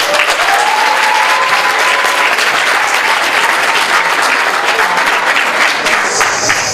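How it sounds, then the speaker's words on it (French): Loud, continuous applause fills a hall at a book signing and literary ceremony, a dense, even clatter of many hands that holds without pause for the whole stretch. "Applaudissez."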